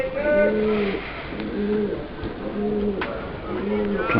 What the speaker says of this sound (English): I don't know whether you noticed, but the pigeon's back.